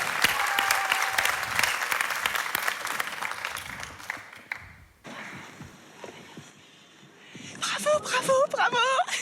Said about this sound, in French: Applaudissements pour Loubna.